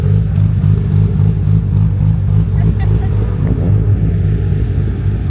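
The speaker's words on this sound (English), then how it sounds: "there is a lovely matte black RX-8 in a queue of a lot of nice cars trying to get out, and you can just hear that rotary engine" A matte black Mazda RX-8 rotary engine idles and burbles in a queue of cars at a busy Japanese car show, a steady low drone close by with crowd chatter in the background.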